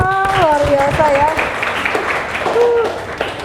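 Audience applause at an Indonesian Ramadan health talk show: a dense, steady patter of clapping that runs under a presenter's voice, which continues speaking through it.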